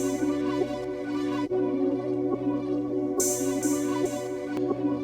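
A hip-hop style beat in which a layered hi-hat ticks and sizzles steadily on top of sustained synth chords and bass, with a brighter hi-hat layer entering partway through; loud, continuous and without talk.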